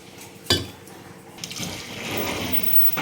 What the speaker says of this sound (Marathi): तर याच्यामध्ये आपण आता पाणी टाकणार आहे.